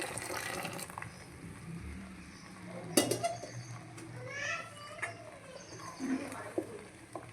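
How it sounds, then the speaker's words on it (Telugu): Water poured into a hot cooking pan for wheat rava kesari, a gushing, filling splash with scattered clinks of a pot and utensils, moderately close. "మొత్తం పోసేసుకున్నాం వాటర్."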